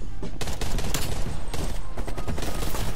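Rapid, loud bursts of Type 63 rifle fire from a first-person shooter video game, crackling shots that repeat in quick succession with brief pauses between them.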